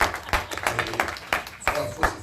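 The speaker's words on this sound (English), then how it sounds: "Please clap for the man of God." A church symposium audience claps in a burst of sharp, uneven hand claps, moderately close and loud, lasting only a couple of seconds.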